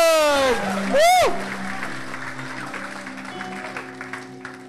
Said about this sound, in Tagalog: Sige, palakpakan po natin ang Lord.